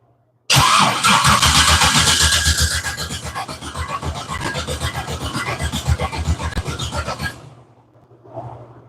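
An engine fitted with a Holley fuel system and fuel pumps cranks hard for about seven seconds without catching, a loud, close, rhythmic starter grind with steady pulsing beats that then stops abruptly, followed by a faint brief rustle.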